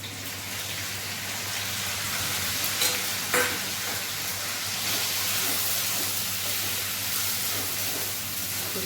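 Tomatoes going into a pan of frying cauliflower curry, giving a steady close sizzle and hiss with a brief clatter of stirring partway through, with no voices.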